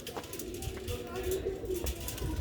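Rooftop pigeons give soft, low, repeated coos close by over a few seconds, with light rustling and faint background noise around them.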